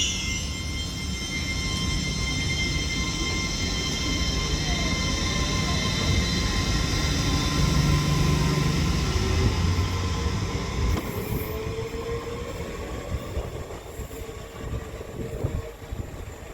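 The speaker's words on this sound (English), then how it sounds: "807009 departs Runcorn now with the 12:44 Avanti West Coast service to Liverpool Lime Street from London" An Avanti West Coast class 807 train departs Runcorn station, its electric drive whine rising in pitch over a rumble of wheels on rail, with brief metallic squeals as it pulls away.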